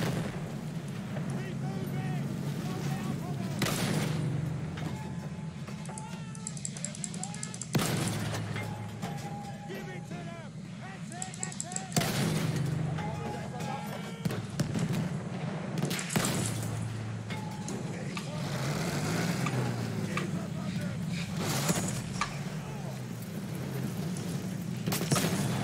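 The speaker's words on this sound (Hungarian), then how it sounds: "Na, megint egy gránát!" Battlefield 1 combat rumbles on with repeated heavy grenade blasts and dense gunfire in sharp bursts over a constant roar of battle, loud throughout, with a voice talking over it.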